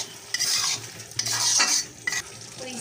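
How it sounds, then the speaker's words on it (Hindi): Fried okra gets stirred into masala in a hot pan, the spoon scraping in several quick bursts over a steady sizzle, close and clear with no voices. "भिंडी के साथ मसाला मिक्स हो जाएगा"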